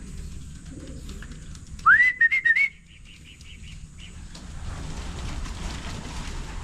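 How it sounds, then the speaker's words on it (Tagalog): A person whistles a short rising note followed by a few quick warbling pulses, loud and near, over quiet outdoor background. "pakinggan nyo pag nagsipol ako"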